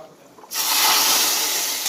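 A hot tempering of oil fried with dried chilli and bay leaf is poured into khichuri, bursting into a loud, sustained hiss and sizzle after a brief quiet start.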